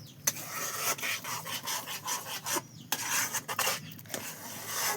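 A spoon stirs food colour into mango pulp for aamsatta, making repeated close scraping and rubbing strokes against the bowl in an uneven rhythm with no talk.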